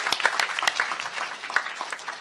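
Scattered, uneven clapping from an audience at a public audition event, individual hand claps standing out over a thinner background of applause, moderately loud and close, with no talking.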